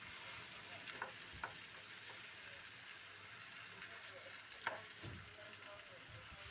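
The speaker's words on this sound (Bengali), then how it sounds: "নেড়ে চেড়ে ভালো করে কষিয়ে নেব।" Jackfruit, potato and fish head being stir-fried in a pan, giving a steady quiet sizzle with a few soft scrapes and clinks of stirring, close by and without any talk.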